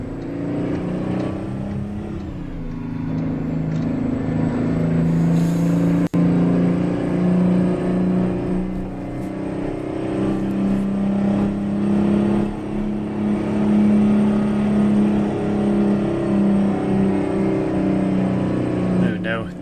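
A heavy truck engine in American Truck Simulator labors uphill with a steady, loud, strained drone that barely changes pitch across the stretch, with a voice heard at times.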